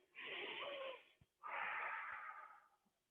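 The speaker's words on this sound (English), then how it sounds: "Deep breath." Two long deep breaths, each drawn in and let out slowly during a Pilates stretch, close and clear with a short pause between them and no talking.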